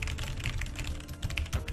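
Keys pressed on a Logitech mechanical keyboard clatter in a quick, uneven run of close, crisp clicks with no voices.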